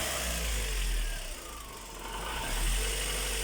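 A Vauxhall Corsa engine with a blocked-off brake booster pipe and a faulty idle valve revs up, dips briefly and climbs again, a steady close mechanical drone with a deep low rumble and no talking.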